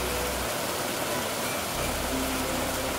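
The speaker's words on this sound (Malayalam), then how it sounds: "കുറച്ച് കഴിഞ്ഞപ്പോൾ നല്ല മഴ പെയ്യാൻ തുടങ്ങി." Heavy rain pours down as an even, dense hiss that fills the whole clip, steady and unbroken, with no voices over it.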